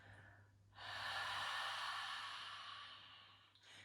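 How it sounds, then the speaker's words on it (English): A long, breathy exhale pushed through a narrowed throat, a steady soft hiss like ocean wind, lasting nearly three seconds before a fresh breath starts. "Exhale through your mouth as if trying to fog up a pane of glass."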